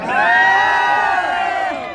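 A crowd cheers and whoops loudly for an elderly grandfather at a gathering in Lunawada, with excited, overlapping voices and children's shouts that swell at once and then hold steady before easing off.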